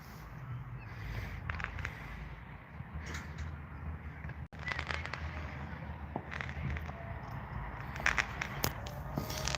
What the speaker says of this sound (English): There's a lot of fireworks just going off like everywhere around.